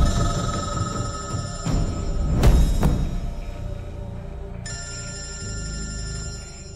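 A telephone rings loudly with a steady electronic tone over a low background rumble, its ring cutting off briefly partway through and then resuming alone, in a Hindi film scene.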